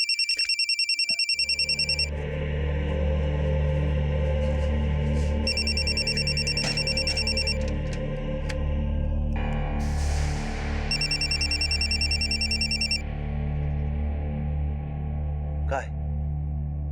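A telephone rings in three repeated electronic bursts, evenly spaced, over a steady low background hum.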